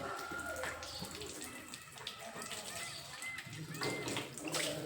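Water runs from a tap for drinking in a steady, faint, hissing flow with small splashes, and voices are heard quietly in the background.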